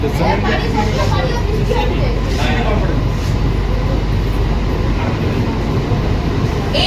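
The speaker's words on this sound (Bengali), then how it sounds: "সেই এসি লোকাল শিয়ালদা থেকে ছেড়ে এই মুহূর্তে চাকদা স্টেশনে ঢুকছে" An air-conditioned local train from Sealdah pulls into Chakdah station after heavy rain, a loud continuous rumble and rail roar filling the platform, with crowd chatter underneath.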